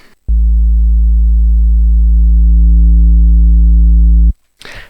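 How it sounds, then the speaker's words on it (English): A deep, buzzy synth bass tone from a pitched-down, distorted sine-wave oscillator holds steady for about four seconds, loud and slightly gritty, then stops abruptly. "Just going to add an analog oscillator, set it to sine wave. I'm going to pitch it down"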